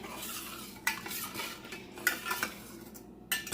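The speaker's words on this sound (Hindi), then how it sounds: "हम थोड़ा सा चम्मच चलाते जाएंगे" A spoon stirs sugar in a pan over a medium flame for gulab jamun syrup, giving a few scattered scraping clinks against the metal amid a quiet background.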